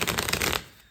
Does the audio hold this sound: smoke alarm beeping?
no